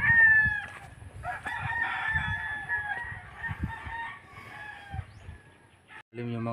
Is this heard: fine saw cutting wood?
no